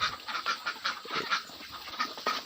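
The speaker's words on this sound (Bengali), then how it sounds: "হাঁসগুলো খাওয়ার জন্য পাগল হয়ে গেছে। সব হাঁস একদম খাচ্ছে।" Ducks on a farm crowd around two feed tubs at dusk, eating eagerly with a steady busy patter of bills and soft quacks, close by and continuous.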